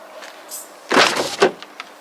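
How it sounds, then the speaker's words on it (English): Passenger door of a crashed BMW M2 Competition being opened: a faint click, then a loud close-up clunk and latch rattle, followed by a second sharper knock and a few small trailing clicks. "Let me try the passenger door."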